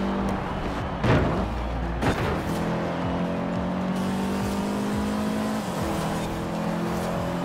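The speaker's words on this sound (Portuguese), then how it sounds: "Ali um carro faz barulho para caralho, é aquele ali, olha. É aquele RX-7" Mazda RX-7 engine roaring in the racing game Forza Horizon 4, a loud, continuous high-revving drone with shifting pitch as it accelerates, plus a few sharp bursts near the start, with no talk over it.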